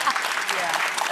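An audience claps in a dense, continuous patter with voices mixed in, a brief burst of applause at steady loudness.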